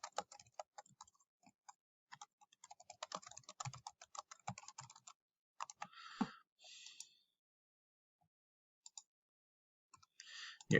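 Text typed on a computer keyboard while setting up a multiple-choice quiz question: quiet, rapid key clicks in uneven bursts with short pauses and a few isolated taps, no voice.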